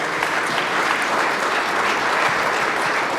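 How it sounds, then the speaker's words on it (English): A conference audience gives a round of applause for a panel on fiber providers building out New York City's infrastructure; sustained, even clapping from a room full of people, with no talking over it. "if I could ask for a round of applause for our panelists"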